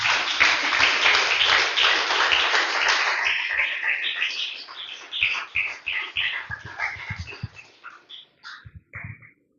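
A church congregation applauds, starting as dense, loud clapping that thins into scattered, uneven claps before fading out.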